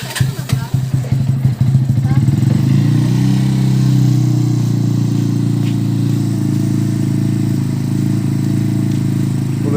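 A motorcycle engine cranks with a rapid sputtering clatter, catches within about two seconds and settles into a loud, steady close-up idle that runs to the end, with no talk over it.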